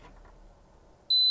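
After near silence, a single short, high-pitched electronic beep sounds clearly from a nearby SwitchBot Curtain device as its LED lights.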